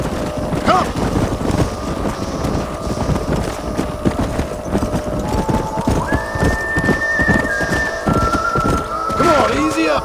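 Horses in the video game Red Dead Redemption, with rapid rhythmic hoofbeats throughout and several whinnies, loud and close, while voices speak over them.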